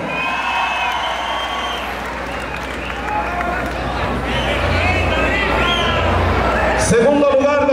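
A crowd at a tournament applauds the second-place team with loud, continuous clapping and cheering, thick with overlapping voices and a shouting announcer over a public-address system.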